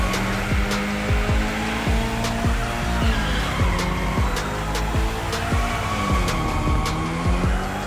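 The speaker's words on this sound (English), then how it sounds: "Drift, my friend. Go drift to your heart's content." A Mitsubishi Evo X drifts in The Crew Motorfest, its engine whining and revving up and down in repeated surges with gear shifts, loud and close under a steady drone of tire and wind noise.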